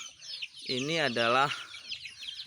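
Indonesian free-range village chickens on a small semi-professional farm give a loud, close clucking call lasting about a second, with quieter farmyard sounds around it and someone speaking.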